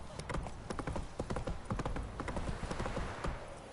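A horse gallops in The Witcher 3, its hooves pounding out a fast, continuous clip-clop rhythm close by, loud and dense throughout with no clear speech over it.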